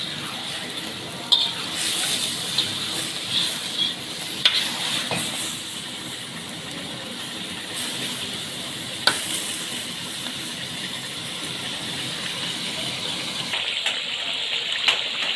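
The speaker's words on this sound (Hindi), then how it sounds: "दो टेबलस्पून हम इसमें अदरक लहसुन का पेस्ट डाल देंगे। वो भी अच्छी तरीके से फ्राई हो जाएगा" Ginger garlic paste sizzles and fries in oil for a Kashmiri chicken karahi, a steady crackling hiss with occasional stirring clinks and scrapes throughout.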